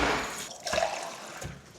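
Water from a measuring jug pours into the pan of a Panasonic bread maker, a brief close splash and trickle in a quiet kitchen.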